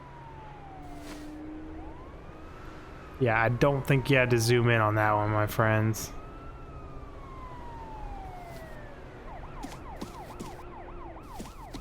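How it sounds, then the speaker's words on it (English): Police sirens wail in the background of the zombie survival game The Day Before, a slow rising and falling tone that later turns into a faster yelping pattern, while someone talks over them. "Who's driving around with their sirens on?"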